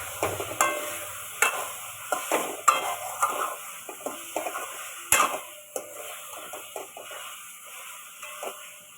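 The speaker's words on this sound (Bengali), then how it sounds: "এরকম মশলাটা কত সুন্দর কষা হয়ে যাচ্ছে, লাল লাল হয়ে গেছে" Spice paste and potatoes fry for an egg curry, with a soft sizzle beneath repeated scraping and clinking of a spoon against the pan. The stirring strokes come in irregular bursts, close by, and nobody speaks.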